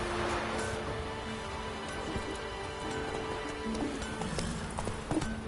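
In The Witcher 3, Geralt's horse Roach trots with a steady clip-clop of hooves, close and continuous amid ambient game sounds.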